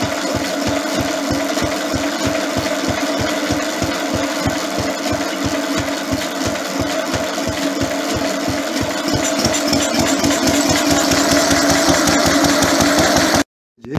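A Lister D diesel engine idles nearby, thumping out a steady, even rhythm of firing beats with a rattly mechanical texture throughout, then cutting off abruptly just before the end.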